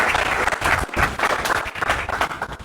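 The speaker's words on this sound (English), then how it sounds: "can we give a round of applause for that?" A round of applause from a gathered crowd at a guild event, dense clapping that holds steady throughout with brief dips, sounding close and full.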